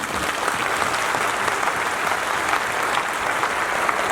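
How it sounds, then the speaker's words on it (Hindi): Sustained, dense applause from an audience at a speech at a Buddhist manifesto launch, loud and steady throughout with no voice over it. "ये ताली आपने मेरे लिए बजाई है"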